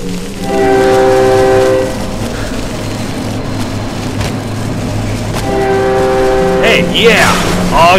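A train in the horror video game Cry of Fear sounds two long, loud horn blasts separated by rumbling rail noise, with a voice talking briefly near the end.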